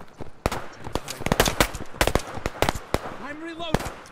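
Browning machine gun in a shooting video game fires in short, sharp bursts of close, punchy shots, with someone talking over the firing and a brief tonal whine near the end.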